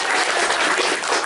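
A hall audience at an Islamic boarding school gathering claps together, a continuous broadband patter of many hands, fairly even in level for the whole short stretch with no voices over it.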